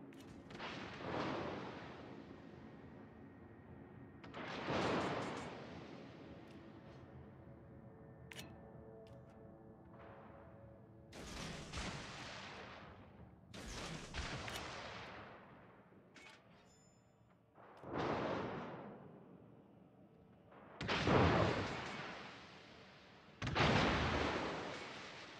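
Naval gunfire in World of Warships, heavy booming salvos arriving at irregular intervals, each with a long rumbling decay, separated by quieter gaps, with no voices.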